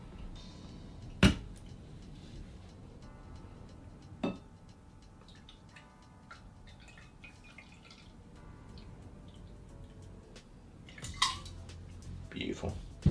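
A shaken cocktail is strained into a martini or coupe glass. A quiet trickle and drip of liquid is broken by a few sharp glassy clinks near the start and end.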